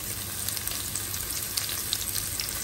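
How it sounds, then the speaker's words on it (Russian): Meat frying in hot vegetable oil in a pan, a dense steady sizzle with small crackling pops scattered throughout, close and constant. "Все, теперь оно пусть так жарится."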